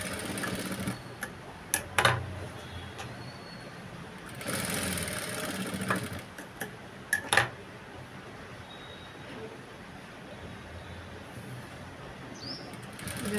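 Sewing machine stitching a boat neck blouse in a tailoring setting: short bursts of whirring, rattling stitching, including one longer run of about a second and a half, separated by quieter pauses with light background noise.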